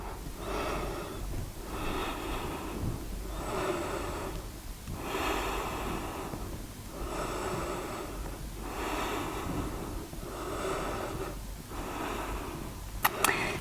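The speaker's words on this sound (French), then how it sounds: "Et on respire dans la posture." Slow, deep breathing held in a yoga posture: long rhythmic inhales and exhales, about six full cycles, close and steady with no talking.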